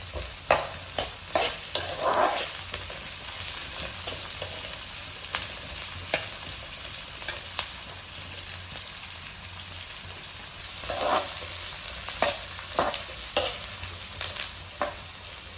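Oil and ingredients fry steadily in a pan on a gas stove for okra palya, a continuous close sizzle with scattered stirring scrapes and occasional louder crackles throughout.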